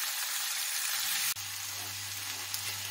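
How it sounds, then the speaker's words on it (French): Sliced onions fry in olive oil in a pan, giving a steady, close hiss of sizzling with a low hum and one brief sharp clack partway through. "Dans ma poêle, avec un peu d'huile d'olive, je fais revenir mes oignons émincés jusqu'à ce qu'ils deviennent translucides."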